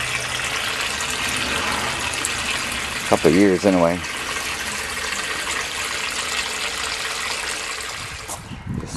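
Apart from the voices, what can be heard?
water being pumped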